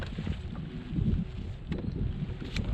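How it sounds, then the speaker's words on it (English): Wind gusts across Lake Lanier on a rainy day, producing a low, rumbling buffet against the microphone with faint water sounds around a small fishing boat. "Wind is blowing me right where I don't want to be."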